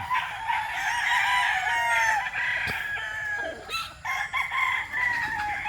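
A Boston Sweater gamecock crows loudly and close by, a few repeated calls mixed with clucking in a farmyard setting, with no speech.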